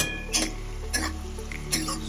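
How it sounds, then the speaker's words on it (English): Garlic and ginger frying in a pan for a Punjabi rajma curry, with a steady sizzle under three distinct stirring scrapes and clinks of a utensil against the pan, close and moderately loud. "After a couple of minutes, I'll just add the garlic in it and the ginger in it."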